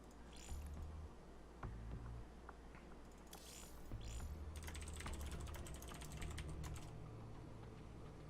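Rapid, uneven keyboard typing clatters continuously during a StarCraft 2 Copa América 2014 match broadcast, fairly faint and close, with bursts of keystrokes over a low background hum.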